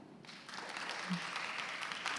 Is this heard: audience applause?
yes